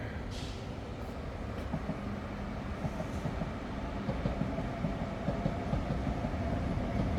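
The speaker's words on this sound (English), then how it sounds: "They're the VR trains, they're the intercity trains, go the length and breadth of the country" A VR intercity train in Finland, near the town of Tikkurila outside Helsinki, rumbles past steadily for several seconds with a rattling clickety-clack of wheels on rails, fairly close and continuous.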